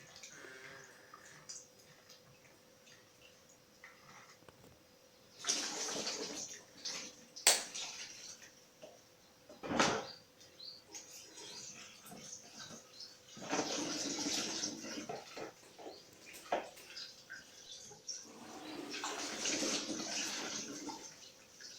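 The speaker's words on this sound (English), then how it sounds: "And wash the grapes in it." Grapes being washed in a tub of water for homemade red wine, with bursts of splashing and sloshing that come and go in several waves, fairly close and moderately loud, with no one speaking.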